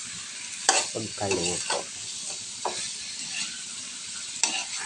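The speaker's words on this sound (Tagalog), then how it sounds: "Haluin lang natin para magpantay yung" Garlic butter shrimp sizzle steadily in a pan while a utensil stirs them, with several distinct scraping stir strokes over the continuous frying hiss, close up, and a brief spoken word.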